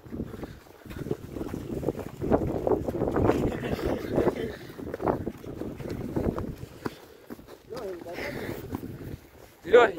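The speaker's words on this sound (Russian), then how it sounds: "Задувает ветер, походу." Wind gusts buffet the microphone aboard a small boat on open water, a low rumbling roar that swells and fades beneath ongoing conversation among several people.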